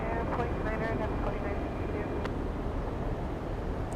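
A Boeing 767 lining up on the runway at Atlanta Hartsfield-Jackson airport, a steady distant jet engine rumble under someone talking.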